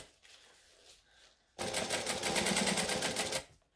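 After a few quiet handling noises, a sewing machine back-stitches fabric in a short, fast, close burst of rapid stitching lasting about two seconds.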